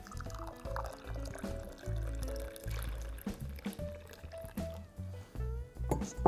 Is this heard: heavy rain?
no